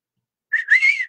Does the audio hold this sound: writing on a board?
no